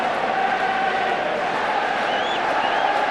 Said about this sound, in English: the crowd trying to take over, give some choral encouragement to Henrik Larsson